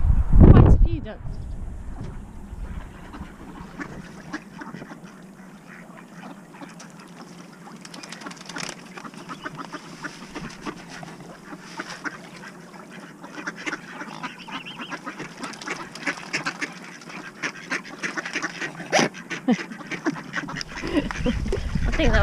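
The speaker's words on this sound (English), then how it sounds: "And there they are, the ducks." Ducks quacking beside an off-grid canal boat, scattered calls over a steady outdoor background with people talking nearby throughout.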